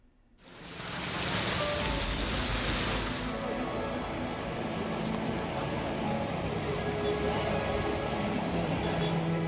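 Heavy downpour in drought-prone Maharashtra pours steadily onto surfaces, a dense, loud wash of rain that swells in quickly and continues unbroken, close and enveloping.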